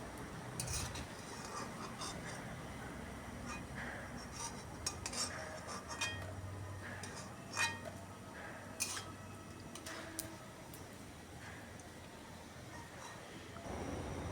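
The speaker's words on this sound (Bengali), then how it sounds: "পকোড়াগুলো ভাজা হয়ে গেছে, উঠিয়ে নিচ্ছি" Fried jackfruit pakoras are lifted out of a pan, with soft oil bubbling under scattered metallic clinks and scrapes of a utensil against the pan, fairly quiet and close, without talking.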